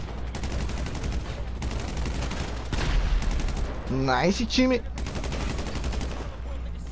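Rapid bursts of GTA V Online gunfire rattle in the background throughout, with a few louder volleys, while someone talks briefly over them.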